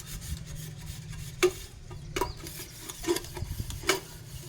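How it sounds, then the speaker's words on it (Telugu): Dishes and vessels are scrubbed by hand, a soft continuous rubbing with several sharper scraping strokes spaced about a second apart, close by and with no voices. "ఇప్పుడు తోమేస్తున్నాను గిన్నెలు"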